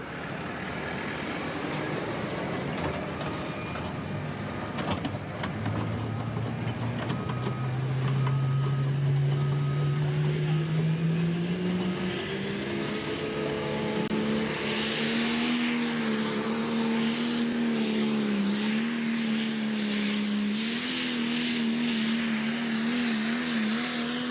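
A light limited pro stock tractor, the Blacktop Binder, roars through a pull at a summer pullers' event in Wauseon, Ohio, its engine droning loud and steady while the pitch climbs and wavers over the run.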